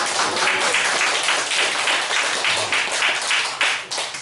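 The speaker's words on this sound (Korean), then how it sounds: "박수 쳐줍시다." A church congregation claps together in dense, steady applause that fills the room, loud and continuous with no talk over it.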